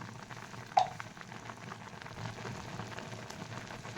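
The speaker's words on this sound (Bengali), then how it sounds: "ফুটে গেছে আস্তে আস্তে, এটা একটু ঘন হয়ে এসছে।" Shahi paneer gravy thickening in a pan simmers with a soft, steady bubbling and faint sizzle, quiet and continuous, with one small sharper pop near the start.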